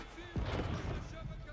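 Cannon fire in the video game Age of Empires 4, a single sharp boom with a falling whistle, followed by a rumbling blast over a quiet game backdrop, with speech present.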